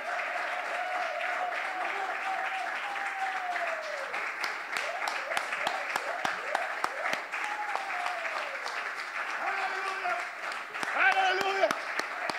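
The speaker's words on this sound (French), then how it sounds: "Oh, donne-lui l'acclamation." A church congregation at a French-language service claps and acclaims together, steady applause with scattered sharp claps carrying on under a preacher's raised voice throughout.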